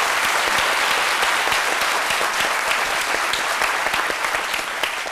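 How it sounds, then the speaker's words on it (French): An audience applauds loudly and steadily, a dense wash of many hands clapping throughout with no break. "je vais demander à tout le monde d'applaudir notre invité"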